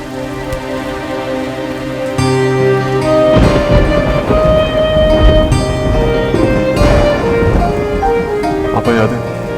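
Heavy rain pours steadily during a nighttime thunderstorm, with rumbling thunder swelling midway and soft background music underneath; the downpour stays loud and constant throughout.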